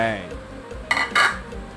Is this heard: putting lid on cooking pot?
yes